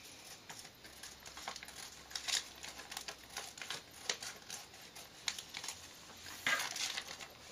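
Scissors snipping off an extra strip of paper for a traveler's notebook card holder insert, faint and close, with soft irregular crinkles and cuts.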